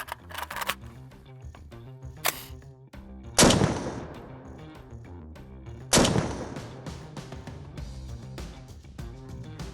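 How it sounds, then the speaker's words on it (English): M4 rifle gunshots ring out outdoors, several sharp loud reports with echoing decay, two especially powerful blasts spaced a few seconds apart amid smaller clicks and impacts. "So we just shot it with the M4"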